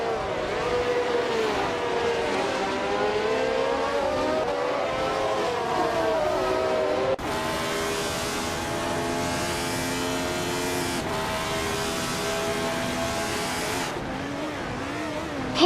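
A 1971 BRM P160 and other race car engines in a racing video game hold a steady, loud whine across the whole stretch, pitch rising and shifting as gears change, with no talk.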